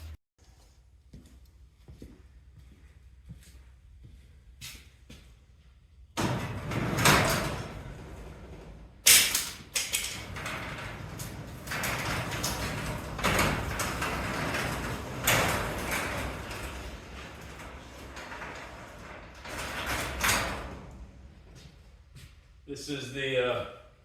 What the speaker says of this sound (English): See how the door doesn't shut all the way?